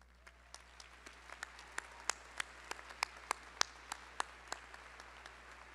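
Graduates and guests at a fall business school commencement applaud the standing faculty, with scattered, fairly sparse claps sounding over a steady hum in a large hall, fairly faint and without speech.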